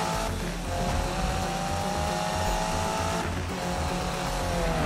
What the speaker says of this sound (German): Ich finde die Funktion, dass die Karre so geil quer geht, so mega